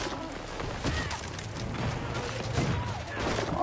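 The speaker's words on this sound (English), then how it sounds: "Grenade going out!" A grenade blast in Battlefield 2042's Rush mode erupts amid a dense, continuous wall of gunfire and battlefield noise, with several sharp, loud bursts spread across a few seconds and a faint voice now and then underneath.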